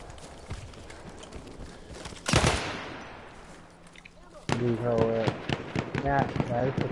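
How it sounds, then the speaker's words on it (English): Mortar rounds land in Battlefield 1 World War One combat, a sudden loud blast near the middle and another burst of explosions and gunfire later, set against ongoing battlefield noise with people talking over it. "He's dropping mortars."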